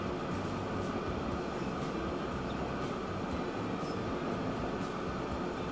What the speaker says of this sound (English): Yep, another passenger train.